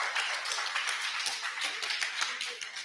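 Audience clapping for professor Domingo Lara at a talk about the Atacameño Lickanantay people, a steady patter of many hands filling the room at a moderate level, with faint voices underneath.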